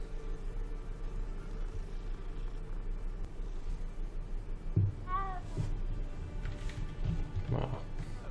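A cat in Hogsmeade in the video game Hogwarts Legacy gives a short, faint meow, then a second brief mew, over low ambient background noise and soft game sounds.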